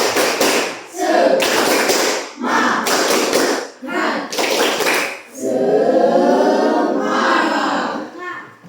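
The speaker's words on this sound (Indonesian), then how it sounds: "ayo tepuk semangat dulu ya" A school class performs a rhythmic spirit clap, bursts of loud group clapping and table taps in quick patterned sets, separated by short pauses and punctuated by children chanting together in unison.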